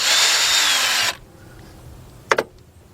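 A power tool whirs loudly for about a second while loosening a bolt on a Kia/Hyundai V6 engine during timing belt work, then stops, followed by a quiet pause and two quick metallic clinks.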